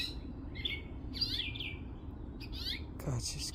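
A house finch mother chirps in short, bright bursts several times over a few seconds, close by, with faint background noise and no talk.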